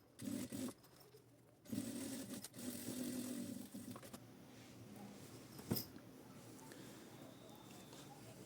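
A sewing machine stitches the fabric seams of a backpack's bellows panel in short, faint runs of fast mechanical whirring, with quiet gaps and a brief click between bursts.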